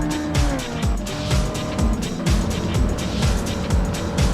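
A loud Corvette race car engine in a video game screams through rapid gear shifts, its pitch climbing and dropping repeatedly, with tire noise and other cars close by.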